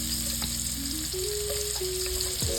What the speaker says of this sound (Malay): kita tumis bawang putih dan kemudian bawang besar sehingga garing dan wangi